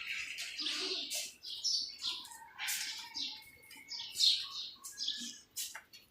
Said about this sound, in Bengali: চারিদিকে শুধু পাখি ডাকছে